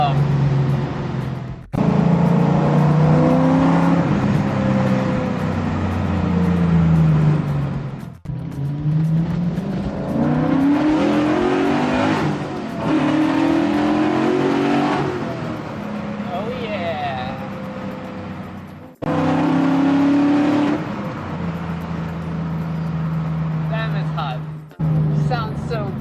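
Classic car with a Ford Coyote V8 pulling in a long first gear, a loud, close engine note climbing steadily through several extended acceleration runs, interrupted by brief gaps as the throttle lifts, with talk over it.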